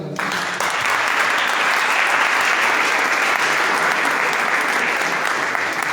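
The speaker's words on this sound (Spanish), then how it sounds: "Fuerte el aplauso." Loud, steady applause from a church youth gathering, dense continuous clapping that swells in sharply after a brief moment and holds evenly to the end.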